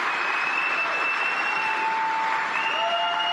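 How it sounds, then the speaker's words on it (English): A large rally crowd applauds in a steady, dense wash of clapping, with a sustained tonal whistle or feedback line running above it and no speech. "Let's give him a round of applause."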